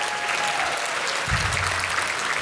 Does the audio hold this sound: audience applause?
yes